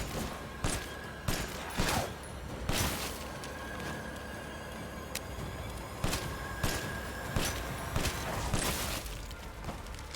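Gunfire in Resident Evil Village, with repeated loud booming shots at irregular intervals over a constant rumbling game background, close and heavy.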